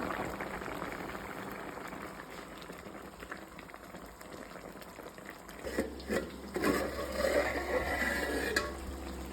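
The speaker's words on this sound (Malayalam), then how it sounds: "നമ്മുടെ വരാല് കറിയൊക്കെ നല്ല അടിപൊളിയായിട്ട് തിളച്ച് പറ്റി നല്ല സെറ്റപ്പ് ആയിട്ടുണ്ട്" A pot of snakehead fish curry simmers with a low bubbling boil, faint at first and then livelier with clinks and stirring sounds in the second half.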